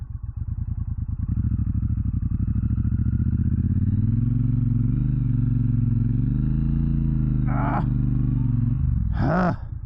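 Motorcycle engine of a 2024 Triumph Bonneville Bobber running steadily and loud up close, a deep torquey rumble with shifting revs, ending in a couple of brief clattering bursts.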